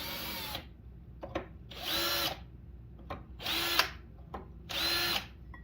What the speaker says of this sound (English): now you got your spots that you need to drill those out